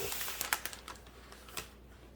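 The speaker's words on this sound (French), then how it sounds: "j'essaie de replier le papier" Soft crinkling and rustling of opaque paper being folded, a few sharp crisp bursts spread over a couple of seconds, close and fairly quiet.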